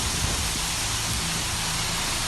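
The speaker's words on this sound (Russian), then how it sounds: "На смену шквалистому ветру пришел дождь с градом." Heavy rain mixed with hail pours down in Anapa during a storm, a dense, steady hiss and rush with no let-up, loud and close, with no voices over it.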